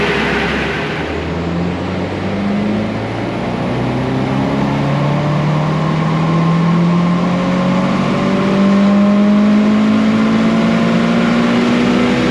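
Tuned JDM Subaru Impreza STi engine on a dyno run, a loud close roar rising steadily in pitch as it revs up through the gears' worth of RPM, continuous and alone with no talk.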